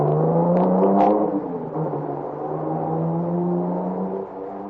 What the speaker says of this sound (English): They all pile into the car and take off through the village